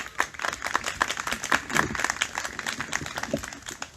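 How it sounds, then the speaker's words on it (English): Scattered applause from a small audience at a community candidates forum on walking and biking, with individual claps audible in a modest, lively burst lasting several seconds. "can we give them a quick round of applause for caring?"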